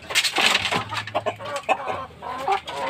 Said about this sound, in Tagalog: tingnan natin kung kakain yung manok